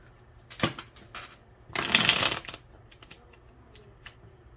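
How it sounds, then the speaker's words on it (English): Tarot cards are shuffled in a few quick riffling bursts, one short flick and then a longer rustling shuffle, close and crisp with soft handling noises between and no talk. "One more shuffle for good measure for Cancer here."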